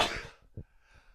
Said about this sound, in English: I had to sneeze.